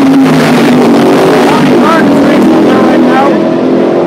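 Race cars at Mondello Park race track on a Sunday, a loud, continuous engine drone with rising and falling revving close by, while a person speaks over it.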